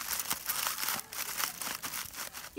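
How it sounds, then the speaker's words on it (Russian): Aluminum foil packet of mussels crinkles and rustles as it is handled and set onto campfire coals, a close, soft, continuous crackle ending in a brief louder scrape. "И вот так вот прям на угольки я ложу свою фольгу."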